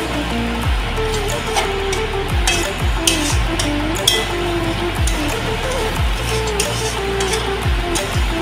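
Marinated rohu fish pieces being stirred into frying spice masala in a pan, with steady sizzling under repeated scraping and clinking of a spoon against the pan, close and fairly loud.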